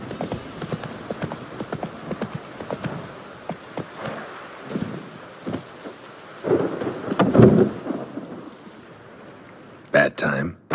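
Rain and thunder in the video game The Witcher 3, with a soft rain hiss under scattered thumps and a louder rumble midway, plus hoof clip-clops and brief voices near the end.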